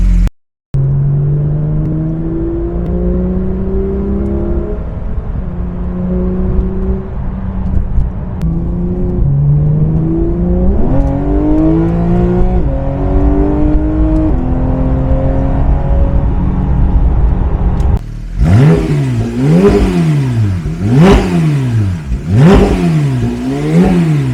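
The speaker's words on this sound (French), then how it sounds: "On est en train de faire chauffer la voiture" A Porsche 911 GT3 RS of the 991.2 generation fitted with a full tube exhaust, revving while warming up: a loud, close engine climbing through repeated rising sweeps, then a burst of sharp, rapid throttle blips that rise and fall.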